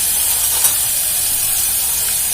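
Garlic sizzling in hot oil for a small-cut raw mango pickle, a loud, continuous hiss of frying that stays even throughout with no talking.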